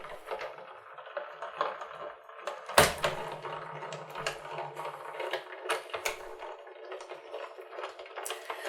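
A die-cutting machine runs a gingerbread house die through with a steady, faint rolling and clicking, marked by one sharp crack partway in and a brief low hum after it.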